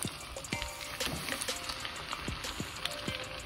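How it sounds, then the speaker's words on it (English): Coconut shrimp deep frying in hot oil, a dense continuous crackling sizzle with scattered pops, steady and close, with no voices. "I'm just gonna let them deep fry 2 to 3 minutes."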